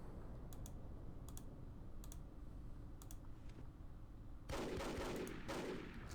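Rapid bursts of machine gun fire from the Battle for Iwo Jima video game, with quiet clicking shots early on and then a louder sustained stretch of automatic gunfire near the end.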